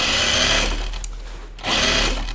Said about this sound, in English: I'm just top stitching this to kind of make my muslin as sellable to myself as possible.